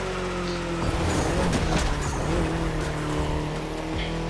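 A race car in The Crew Motorfest racing game roars along at speed, a loud sustained engine drone with shifting pitch and rough tire noise, steady throughout with no voices.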